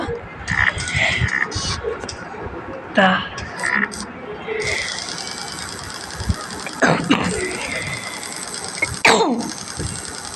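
A person coughs a few times between stretches of hoarse talking, with intermittent mechanical whirring and clatter in the background.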